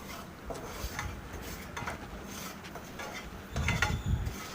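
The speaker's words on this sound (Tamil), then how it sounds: "அந்த 1/2 கப் ரவையை போட்டு வறுத்து எடுத்துக்கலாம்." Semolina is roasted in ghee in a pan and stirred with a spoon, giving soft scraping and light clinks in an irregular rhythm, quiet and close.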